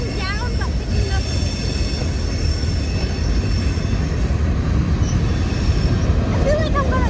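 Long CSX freight train behind six engines keeps rolling past, a dense rumble of wheels on track with high squeals rising and falling, and a voice talking over the noise.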